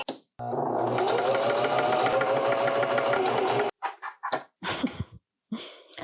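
A sewing machine stitches a t-shirt seam in one steady, rapid mechanical run of about three seconds, followed by short clicks and handling noises.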